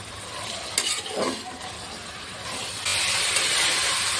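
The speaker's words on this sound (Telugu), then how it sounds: "అలాగే టమాటా కూడా ఇందులో వేసేసుకోవాలి వీటన్నిటిని బాగా వేయించుకోవాలి" Vegetables and tomato stir-frying in a pan, with a continuous sizzle broken by a few scraping stirs near the start, then a louder, denser frying hiss building toward the end.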